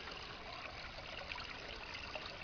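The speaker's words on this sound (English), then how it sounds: "there's a culvert that the water goes through, and it goes into the trout stream" Water trickling through a culvert and spilling into a trout stream makes a steady, fairly quiet outdoor wash of flowing water that holds an even level throughout.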